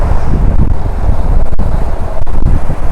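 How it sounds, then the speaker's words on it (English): Heavy wind buffeting a microphone, a steady low rumble with gusty surges and a couple of sharp thumps, no voices. "very windy right here."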